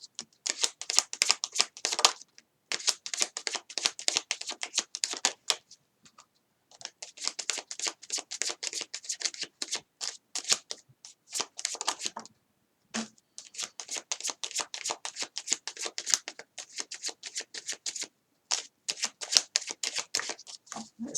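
Tarot cards are shuffled in quick, dense riffling bursts close up, several long runs broken by short pauses, with no voices.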